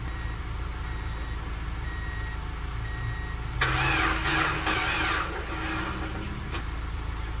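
A Mazda Miata with a dead battery is cranked during a jump-start while the donor car's engine idles steadily nearby. A louder, rough burst of cranking lasts a couple of seconds before it fades back to the idle hum.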